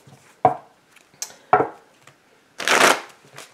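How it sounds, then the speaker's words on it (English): Tarot cards being shuffled by hand: two sharp riffling snaps, a few soft taps, then a longer, brighter riffle near the end, close and clear with no talking. "let's get a couple shuffles"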